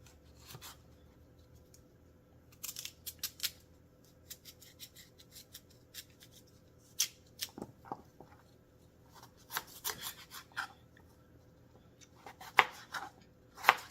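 A knife slices through a raw, washed sweet potato on a cutting board, cutting it into wedges: irregular short crunchy cuts and taps, fairly quiet, with pauses between bursts and no talking.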